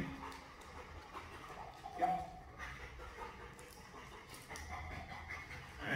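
A one-year-old Labrador Retriever, excited during a training session, pants steadily and lets out a few whimpers and yips, fairly close but soft, with a person's voice heard over it.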